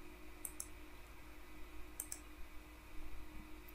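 Computer mouse clicks in dental imaging software, two quick pairs of crisp clicks spaced apart over a steady electrical hum, close and quiet with no talking.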